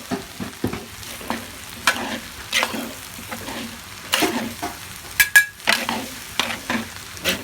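Rice stir-fried in a big wok, with repeated scraping and tossing strokes over a steady sizzle, no voices.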